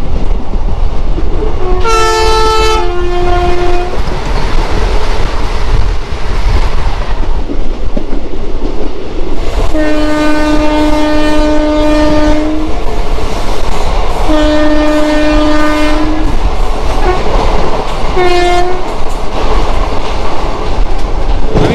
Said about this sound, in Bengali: এক্ষুনি বন্দে ভারত আসছে দেখুন